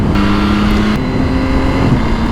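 A 2026 Yamaha R9 motorcycle with stock exhaust hums loudly with a steady, rising tone and brief revving, heard close over wind noise.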